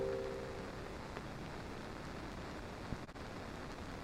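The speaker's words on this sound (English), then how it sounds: "It's almost like a white noise machine on its own." Steady, broadband white-noise hiss from a 3Degrees Audio Bygones stereo lofi effect pedal fills the clip evenly, soft and constant like static, with a brief faint tone at the start and a small click near the end.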